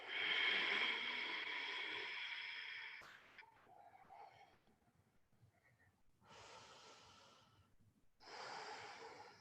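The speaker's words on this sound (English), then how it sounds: "deep breath in, long breath out" Deep yoga breaths during a power vinyasa flow, a long loud inhale followed by slower exhales, then two more strong breaths near the end, close and airy with no talking.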